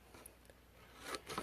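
Scissors cutting a paper gift bag, a few brief crisp snips close by, the last two louder, over near silence.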